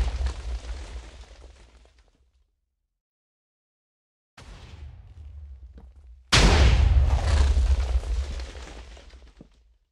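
Booming TNT blasts from a wooden cannon in Minecraft, one fading rumble, a gap of silence, then a second burst and a much louder third explosion that decays slowly, with no talk.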